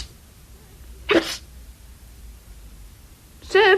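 A narrator's voice imitates a cat sneezing, giving two short, sharp sneezes separated by a quiet pause, close and clear.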